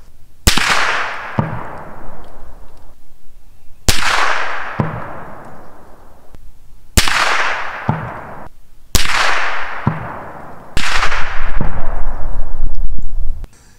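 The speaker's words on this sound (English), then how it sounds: "We'll fire 3 more rounds. Actually, let's just do 5." Five loud rifle shots fired at a 600-yard target, each a sharp crack with a long decaying echo, spaced a few seconds apart outdoors.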